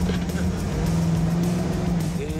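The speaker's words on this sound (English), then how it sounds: "I can't hear you. My engine's too loud." A loud car engine roars steadily and up close throughout, a continuous low rumble filling the moment without any speech over it.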